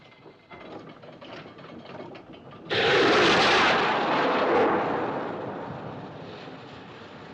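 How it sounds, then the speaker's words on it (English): A signal rocket fired from a ship during an evacuation at sea bursts in suddenly as a loud, broad whoosh and roar that swells and then slowly fades, following a quieter rumbling background. "Looked like a rocket, sir."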